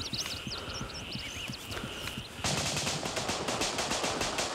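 In a survival shooter game, rapid automatic gunfire erupts partway through, a dense continuous burst of close, loud shots following a stretch of ambient noise with faint chirping and scattered clicks.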